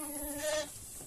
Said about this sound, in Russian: Где тут кричит овца?